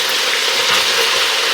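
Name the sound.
onion frying in bacon and hog jowl fat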